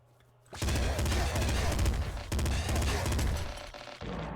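Laser minigun firing in a shooter video game: a dense, continuous buzzing barrage that starts abruptly, briefly dips midway, then resumes loud and sustained to the end.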